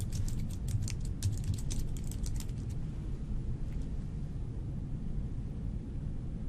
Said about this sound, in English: she finishes what she was typing in